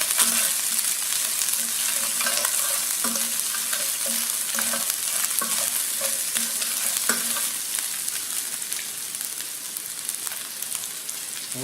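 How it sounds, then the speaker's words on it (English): Chili peppers and green onions sizzle and crackle steadily in hot oil in a wok for Kung Pao chicken, with occasional clinks of stirring against the pan, close and continuous with no talking. "we're going to add our chili peppers and our green onions"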